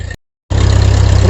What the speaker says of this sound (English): Go for a ride on the tractor.